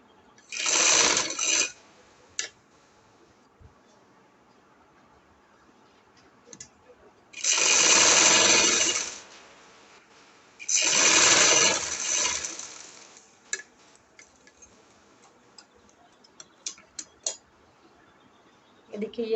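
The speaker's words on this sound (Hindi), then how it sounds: "हमने सिलाई इस साइड पे नहीं लगानी, हमने ये अंदर वाली साइड पे सिलाई लगानी है।" A sewing machine stitches the neckline of an angrakha on its inner side in three bursts of fast mechanical whirring, one short and two longer, with faint ticks and handling clicks between them and no talk.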